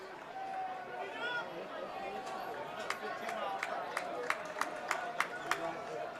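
Big crowd at a high school state baseball championship game, a faint distant murmur of spectators with scattered claps and sharp ticks, under a commentator's steady talk.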